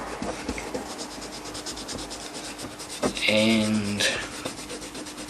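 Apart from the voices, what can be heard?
rubbing corrosion off with Silvo polish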